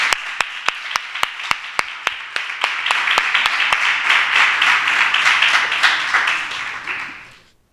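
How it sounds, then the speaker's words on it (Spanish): At an awards moment during a 2022 fair proclamation event, honouring a poetry prize winner, a few sharp, separate claps open the applause before it swells into steady, full audience clapping that holds and then fades away at the end. "Un fuerte aplauso también para él."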